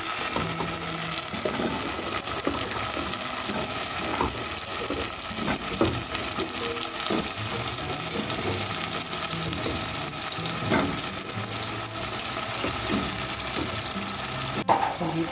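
Potatoes fry in a pan and get stirred, a continuous close sizzle broken by scraping and clattering stirs, with one sharp knock near the end and no talking.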